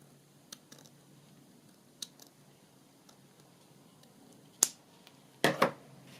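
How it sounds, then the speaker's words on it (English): Scissors carefully trimming a piece of lace: faint ticks, then a few sharp close-up snips, the loudest clustered together near the end, in an otherwise quiet room with no talking. "So I think it's going to carefully just try and cut that off."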